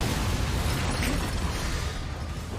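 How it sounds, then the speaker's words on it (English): An explosion in the Attack on Titan anime rumbles as a broad, sustained roar with low booming, loud and dense, slowly easing toward the end with no voices over it. "In the midst of the explosion."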